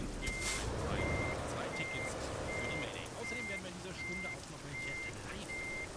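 A truck reversing in Euro Truck Simulator 2 gives a steady series of evenly spaced electronic beeps over engine rumble, with someone talking faintly underneath.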